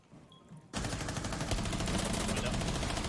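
Sustained automatic gunfire empties a full magazine in Rainbow Six Siege, starting abruptly after a short quiet lead-in and running as a loud, dense, rapid stream of shots.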